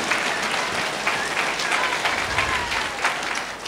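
Applause from a church congregation, a steady wash of many hands clapping at a moderate distance that carries on evenly for a few seconds.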